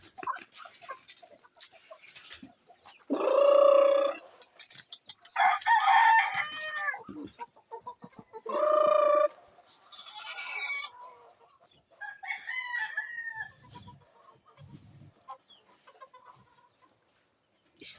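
Several roosters crow loudly in turn, long drawn-out calls close by, with softer clucking from chickens and quiet gaps between the calls.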